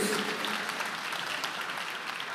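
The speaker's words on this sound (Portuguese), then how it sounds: "Quem está entendendo vai aplaudindo a Jesus aí" A church congregation applauds together during a sermon, a steady wash of clapping that stays even and fairly close for its whole length, with no voices standing out.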